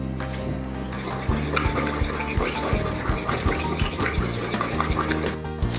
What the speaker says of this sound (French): Et je mélange de nouveau.